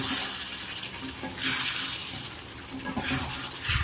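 Egg is stirred into masala in a pan, a steady scraping and sizzling with loud bursts of spoon and pan contact recurring every second or so.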